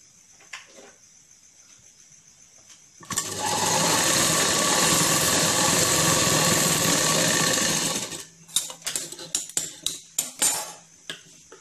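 A sewing machine runs steadily for about five seconds, stitching a double-folded open seam on palazzo pants, loud and close, then stops and gives way to a scatter of sharp handling clicks and taps.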